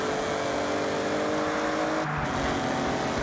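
A car engine in the Forza Horizon 6 racing game, a continuous dense, resonant rumble with a throaty, slightly gritty tone, held loud and steady for a few seconds without talk.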